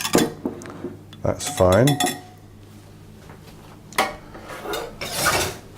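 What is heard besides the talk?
mixing blueberry muffin ingredients in a bowl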